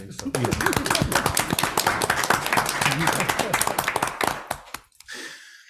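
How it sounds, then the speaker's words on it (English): A small group at a city council meeting claps sparsely after an audit presentation, individual distinct claps mixed with talking and laughter, then stopping abruptly before a quiet close. "Is this where we give a round of applause?"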